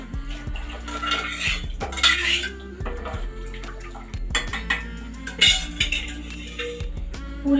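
Dal tipped into a pan of softened tomatoes over a high flame, heard as clattering metal pot and utensil clinks with scraping and stirring, irregular knocks and sharper clanks throughout, close and fairly loud, no talking.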